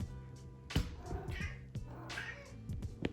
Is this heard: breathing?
no